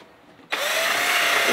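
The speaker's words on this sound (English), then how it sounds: "I'm cutting a hole with a drill." A power drill bores a hole inside a sailboat cabin, starting abruptly after a quiet moment and then whining loudly and steadily up close.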